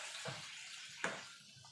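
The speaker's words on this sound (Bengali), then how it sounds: "এবার অল্প করে জল দিয়ে দেবো" A small amount of water is poured into a pot of mung posto, a soft, brief, quiet splashing trickle with no talking.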